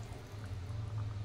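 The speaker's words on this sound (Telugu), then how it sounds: "ఇప్పుడు ఇలా 1/2 గ్లాసు వాటర్ పోసుకోవాలి." Half a glass of water poured into a pot of chicken curry, a steady, soft pouring rush with a low continuous hum underneath, fairly quiet and unbroken.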